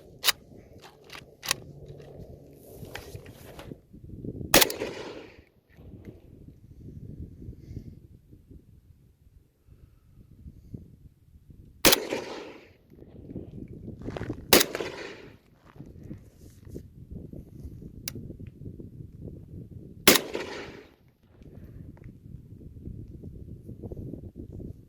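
An AK rifle fires at an outdoor range: four loud, sharp reports spaced several seconds apart, each with a short ringing tail, over a low murmur of background noise.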